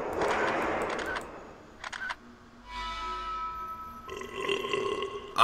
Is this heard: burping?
yes